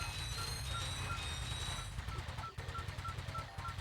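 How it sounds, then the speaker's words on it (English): Old gun turrets fire in Ratchet & Clank on PS2, with rapid, evenly spaced machine-gun bursts that grow into a steady rattling stream under a constant background hum. "It'd be super easy for us to get cut down by these old gun turrets here"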